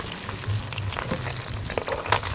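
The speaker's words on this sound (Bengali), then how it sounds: "মাছ ভাজা হয়ে গেছে" Fish frying in a pan in a home kitchen gives a continuous hiss and crackle of hot oil, with scattered louder pops and a low burbling underneath, close and alone without talk.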